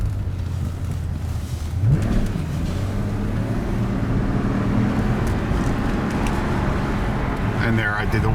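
A 2008 Mercedes-Benz S65 AMG accelerates with a steady, loud engine drone and a single upshift from first to second gear partway through, the note dropping and building again against road and cabin noise.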